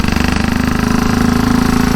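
A Velocette KTT motorcycle engine at bike night, ridden very slowly, gives a loud, close, steady rapid thumping beat with a dense low rumble throughout.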